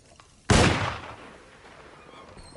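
A single loud gunshot from the video game Alone in the Dark cracks sharply, then a long reverberating tail fades slowly into quiet ambience.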